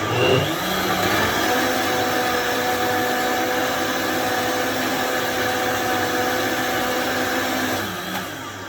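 A blender grinds sesame seeds at high speed with a loud, constant whirring roar for several seconds, then winds down slightly at the end.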